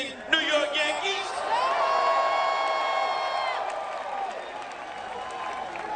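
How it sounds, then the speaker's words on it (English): Mets fans boo at an outdoor Bernie Sanders rally in the South Bronx in 2016, a sustained, rising and fading drone of crowd voices mixed with scattered noise that carries on over several seconds. "Are those Mets fans booing?"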